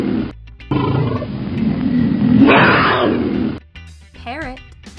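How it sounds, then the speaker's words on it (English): A tiger lets out a loud, sustained roar that swells and then breaks off abruptly, followed by a few softer growls and a brief warbling tone. "Tiger."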